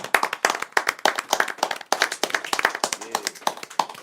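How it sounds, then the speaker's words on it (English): Rapid, close hand clapping for a podcast guest, a dense run of sharp claps continuing steadily, with speech faintly mixed in. "Hand clap for my nigga Millyz, man."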